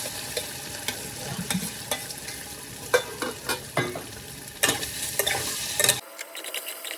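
Boiled taro and chopped green chilli fry in a mustard oil tadka, a steady close sizzle with scraping stirs and sharp clatters, ending abruptly in quieter frying after about six seconds.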